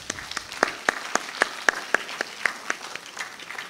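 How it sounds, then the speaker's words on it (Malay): Audience applause for panelists at the close of a hybrid university and community autism awareness webinar, heard as sparse, separate handclaps in an uneven rhythm, moderately near and fairly thin rather than a dense ovation. "Tuan-tuan dan puan berikan tepukan gemuruh."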